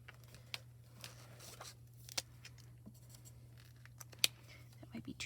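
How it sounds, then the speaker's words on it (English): An Arteza marker scratches across paper, soft close strokes with light squeaks and ticks under quiet talk, against a steady low hum. "And I'm using my Arteza markers."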